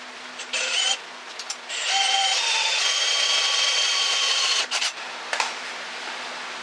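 A drill grinds steadily through a metal mower frame, drilling 3/8-16 bolt holes, a loud continuous whine with a few brief breaks, close by and with no talking.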